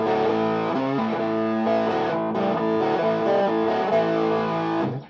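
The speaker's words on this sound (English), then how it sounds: "If I put the two pickups on here," Overdriven Fentura SG-custom electric guitar with both pickups engaged plays a run of changing rock chords and bends, loud, close and steady with no voices.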